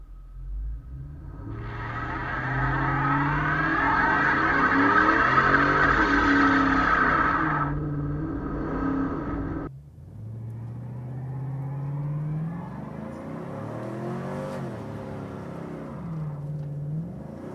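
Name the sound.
cammed Chevrolet Silverado truck doing a burnout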